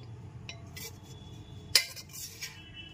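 Spoon against metal while mutton curry is stirred in an opened pressure cooker: scattered soft scrapes and taps, one crisp metallic clink standing out, then a couple of lighter knocks.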